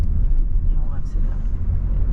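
Car engine pulling steadily under acceleration in second gear during a driving lesson, a continuous low rumble from inside the cabin; an instructor's voice is faintly present, with no clear words.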